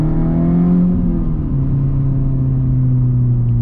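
A Renault Sandero RS engine with its catalytic converter removed idles and revs loudly and close by. It holds a deep, steady drone, then the pitch drops as the revs fall back near the middle and settles into a louder rumbling idle.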